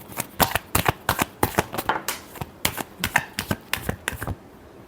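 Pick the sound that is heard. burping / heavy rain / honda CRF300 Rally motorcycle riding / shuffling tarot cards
shuffling tarot cards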